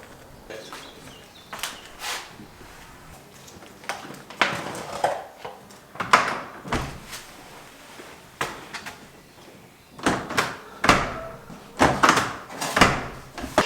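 Door being pushed and knocked into its frame during building work, a string of irregular bumps, thuds and scrapes close by, with short gaps between bursts.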